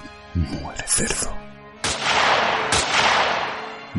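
Gunshots in a dramatized recreation of the Amityville murders: two sharp, loud blasts with long ringing decays, preceded by a voice shouting in a tense, staged scene.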